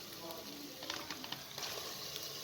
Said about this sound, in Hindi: अब इसके अंदर गोश्त को भी शामिल कर दें